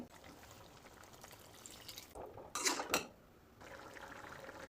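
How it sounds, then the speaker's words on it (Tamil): Water is poured into a cooking pot of bottle gourd tamarind curry, a brief splashing gush close by rising over low kitchen background noise and then settling. "கொஞ்சம் தண்ணி சேர்த்துக்கலாம் தேவையான அளவு"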